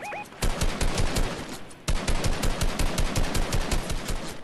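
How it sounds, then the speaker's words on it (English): Rapid automatic gunfire from a Fortnite match, loud and close, with dense bursts of shots that pause briefly before firing resumes in another long, steady volley. "There's another guy shooting me though."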